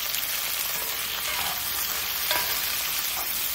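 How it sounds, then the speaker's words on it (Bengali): Capsicum, onion and other vegetables frying over a high flame in a pan, a loud, steady sizzle close up with brief stirring scrapes and no talking. "সবজিগুলোকে একদম হাই ফ্লেমে ভাজছি আমি।"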